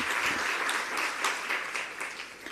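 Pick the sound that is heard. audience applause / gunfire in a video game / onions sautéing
audience applause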